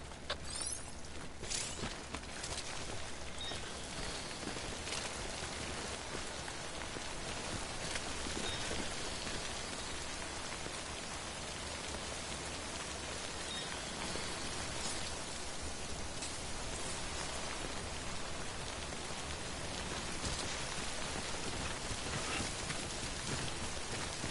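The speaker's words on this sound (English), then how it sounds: "Don't stay out in the rain any longer than you have to." Rain falls in the video game Death Stranding, a dense, continuous hiss of drops on the ground that holds steady and fairly loud throughout, with no voices.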